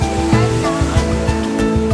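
Water onrushing over a rocky waterfall at Usok Cave in North Cotabato, a steady loud roar with no break, sounding close and unbroken throughout, with a faint low hum beneath.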